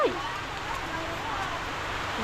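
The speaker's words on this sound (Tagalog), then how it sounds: "Nabutan ako ng ulan." Steady rain falls, a dense, even hiss that holds at the same loudness from start to finish with no breaks.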